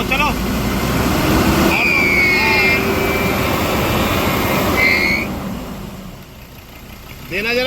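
A 2018 Ford Endeavour diesel with a noise problem revved on the accelerator, a loud, steady engine roar that holds for several seconds before easing off near the end, with voices over it.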